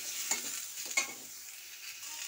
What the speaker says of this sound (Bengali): এর মধ্যে আমি ডাঁটাটা দিয়ে হালকা নেড়ে নেব।